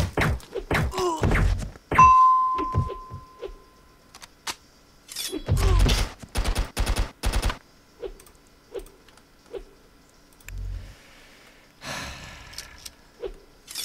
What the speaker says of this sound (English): Keep shooting the bastard.